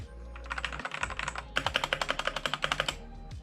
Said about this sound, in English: It honestly, it sounds really good for a clicky keyboard.